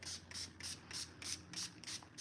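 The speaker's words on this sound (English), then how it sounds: "I'm gonna spray my cards with that." Florida water cologne from a small pump bottle is misted onto a deck of cards in quick, even hissing spritzes, about eight short bursts in a steady rhythm, close and soft, with no talking.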